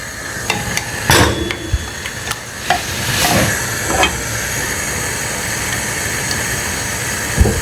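Peanut butter being stirred into a sauce in a pan for Filipino lumpiang sariwa, with a steady sizzling hiss under repeated scraping and clinking strokes of the spoon against the pan, close and fairly loud, no talking.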